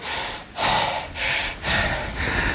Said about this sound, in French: Je vous laisse prendre votre petite récupération, des grandes respirations.